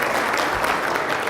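Audience applause at an aviation symposium welcoming the board chairman to the stage, a dense steady wash of clapping from a large crowd throughout.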